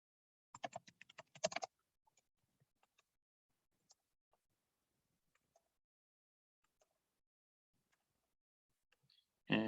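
Short burst of rapid keystrokes on a computer keyboard, followed by sparse, faint single key taps spread over several quiet seconds, close and dry.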